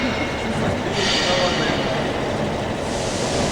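A train rumbles past outside a window in a steady, loud rolling roar with a brief brighter rush midway, heard from inside a room where people are around.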